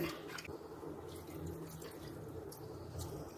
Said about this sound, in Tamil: 2 டம்ளர் அளவுக்கு தண்ணி விட்டுக்கோங்க.